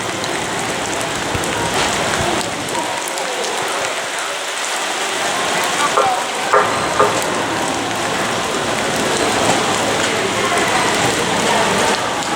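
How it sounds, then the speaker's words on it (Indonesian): Rain falling steadily on an outdoor market, a dense, close patter of drops striking surfaces, with occasional louder taps and a faint background hum, lasting about twelve seconds. "Di tengah kondisi cuaca yang hujan saat ini"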